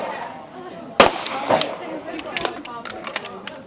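Gunshots at a women's 40+ stage of a regional shooting competition, one sharp nearby crack followed by several fainter distant pops over a murmur of background voices.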